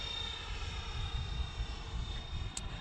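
Freewing F-14 twin 80mm EDF model jet with afterburner flying overhead, a steady, fairly faint whooshing whine of ducted fans with a thin high tone, no talk.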